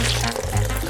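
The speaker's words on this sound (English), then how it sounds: "Now pour it into the glass." A green blender smoothie being poured into a glass, giving a loud, close, continuous liquid splashing and gurgling that runs unbroken for about a second.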